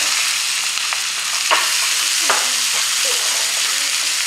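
Onion hits hot oil in a pan for a sweet and spicy sambal tofu dish, producing a loud, steady hissing sizzle with a few faint clicks of stirring.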